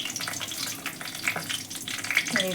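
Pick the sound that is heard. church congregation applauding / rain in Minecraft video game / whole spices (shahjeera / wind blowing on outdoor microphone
whole spices (shahjeera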